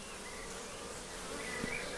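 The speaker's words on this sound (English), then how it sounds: "as we look down that side there, you can see the bees right the way across" Honey bees buzzing steadily at a hive frame, a dense continuous drone from many insects, close and fairly loud, with no talking.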